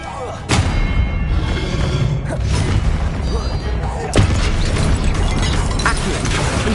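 Expelliarmus disarming spell cast in the Hogwarts Legacy game, heard as two sharp magical bursts roughly three and a half seconds apart over a dense, rumbling battle backdrop.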